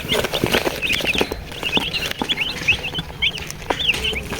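Chickens being placed into a coop clucking repeatedly at close range in quick, uneven bursts, mixed with rustling, scuffling and thumps of handling.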